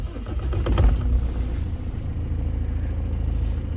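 A vehicle engine idling just after starting on a cold morning, a steady low rumble close by with a brief louder surge near the start before it settles into an even hum.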